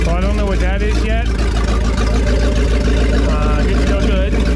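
The engine of a 1989 Lamborghini Countach with a bad vibration runs loud and close in a steady, continuous roar, with a person talking over it throughout.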